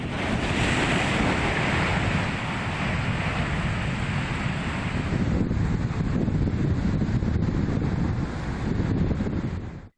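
Rough monsoon sea surging against the Kerala coast, a continuous heavy roar of breaking surf mixed with strong wind buffeting the microphone, loud and close throughout.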